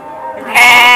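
A sheep bleating loudly and up close at a breeding farm, one wavering bleat that swells to full strength halfway through.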